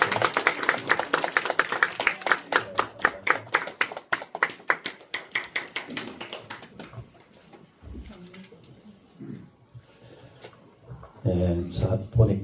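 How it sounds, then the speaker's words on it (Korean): A church congregation at a Sunday morning service claps in a brisk, rapid burst that fades out after a few seconds. Quieter sounds and a voice follow, and the clip ends with a louder passage. "한번 크게 박수로 우리 하나님"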